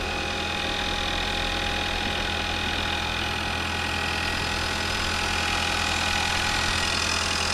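Car engine idling steadily after an old battery replacement, a loud, constant close-up hum and rumble with no break, no talking.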